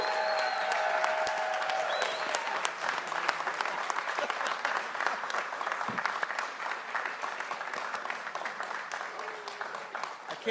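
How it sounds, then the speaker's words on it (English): Sustained audience applause fills a ceremony announcing Baltimore as CIAA Tournament host through 2029, dense steady clapping with some crowd noise throughout, loud and continuous. "Let's give him a big round of applause."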